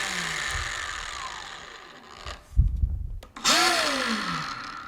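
Two Bosch GWS18V-45PSC brushless 4-1/2 inch angle grinders switching on, with sharp motor whines rising in pitch and spinning up close by, one after the other.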